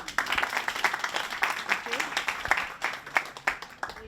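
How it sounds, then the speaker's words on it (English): Brief applause from a small crowd at a civic engagement event with mayoral candidates, scattered claps blending into a patter, with a voice briefly audible underneath. "Give a quick round of applause to Martha."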